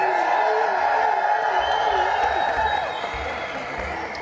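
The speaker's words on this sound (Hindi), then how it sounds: "जरा और जोर से तालियां बजाएं" A studio audience claps and cheers during a televised interview, with clapping and whoops mixed under a voice that keeps talking, and the noise eases off partway through.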